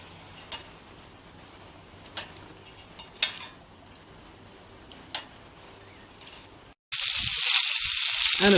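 Duck breast pan-frying in an iron skillet on a bargain folding camping barbecue gives a faint, steady sizzle with scattered sharp pops and crackles, then a sudden loud rush of hiss near the end.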